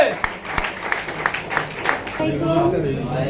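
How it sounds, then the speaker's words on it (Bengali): Audience applause at an iftar gathering, a short burst of scattered clapping from the crowd that gives way to someone speaking over a microphone. "তালি চলবে তালি চলবে"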